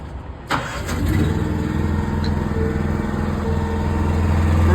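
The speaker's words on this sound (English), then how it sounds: "you got the pony motor back here. So I'll fire it up." The pony motor on a removable gooseneck trailer cranks and fires up after a short quiet start, then settles into a steady, loud, close engine idle.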